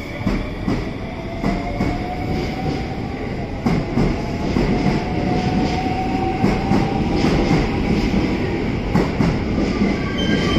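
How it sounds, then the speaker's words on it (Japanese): A rapid train rolls through a platform at JR Osaka Station, with a loud, steady rumble, rhythmic clacking of wheels over rail joints and faint high squealing tones running under the noise. "快速電車"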